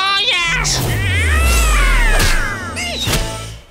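A cartoon cat lets out long, loud, wavering meows and a caterwauling yowl close up, with other voices and sounds mixed in around it.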